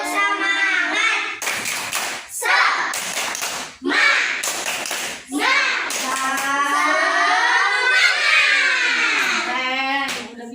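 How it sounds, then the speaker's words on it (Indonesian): Class of fourth-grade pupils doing a rhythmic cheer clap in a classroom, bursts of claps alternating with children's chanted voices, loud and close throughout. "kita tepuk semangat dulu yuk"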